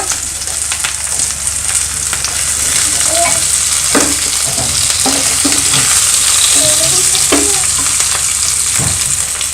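Cubed onion sizzles steadily in a hot pan for a restaurant-style Chinese vegetable dish, with a continuous bright crackle and a few sharper stirring clicks and scrapes close by, no talking.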